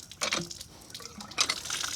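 Water flows and drips at a small farm during the rainy season, coming in irregular splashy bursts with soft trickling between them, fairly close and moderately loud.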